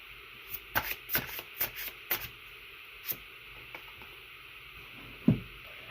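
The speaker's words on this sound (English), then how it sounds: "I think I'm gonna pull a little bit more cards for you guys." Tarot cards are shuffled and pulled, giving a run of soft, close riffling flicks and light taps spaced across a few seconds, ending with a sharper thump, in a quiet room with no talking.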